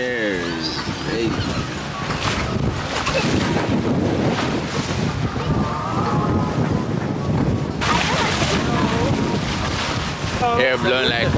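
Strong wind blows across a yacht at sea off Santorini, roaring and buffeting the microphone with a steady rush of water and engine underneath. People talk at the start and end.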